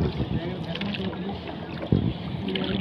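A boat chugs steadily along a river, its low motor rumble mixed with wind buffeting the microphone.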